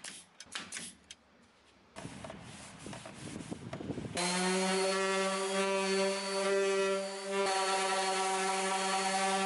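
A garage sale dresser's drawers are sanded, first by hand with scratchy rubbing strokes, then a power sander whines steadily and loudly for several seconds.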